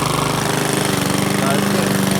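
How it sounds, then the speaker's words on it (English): A Powersmart lawn mower engine sputters and churns steadily as it is cranked to start, a loud, continuous mechanical rumble throughout. "let me see if I can crank this up"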